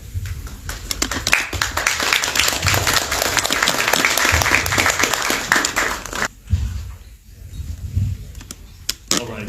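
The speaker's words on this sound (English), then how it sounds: "let's give Dr. Alzadeh a round of applause for taking time to be here." Applause from an audience at a community conversation event, a dense patter of clapping lasting several seconds before thinning out, with some voices underneath toward the end.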